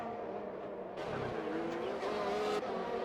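A racing car in a video game drifts at the Azerbaijan round, its engine whining steadily while a burst of tire squeal rises midway and fades after a couple of seconds.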